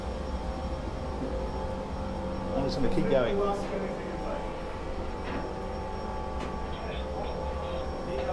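The engine room of a superyacht, where pumps and generators run with a steady, loud mechanical hum and drone. A person speaks briefly over the noise.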